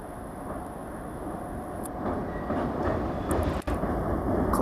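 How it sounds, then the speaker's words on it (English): A diesel locomotive train rumbles past nearby, a steady low roar with rising wheel noise and a brief sharp clack near the end. "Classic blue engine diesel."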